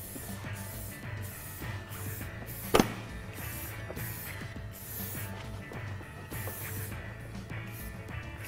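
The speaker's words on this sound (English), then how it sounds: "You don't want to get too close with the in and out spray." Steady hissing spray bursts from a nozzle applying tire and trim dressing to a car, close and moderately loud, with a sharp click partway through and a low mechanical hum underneath.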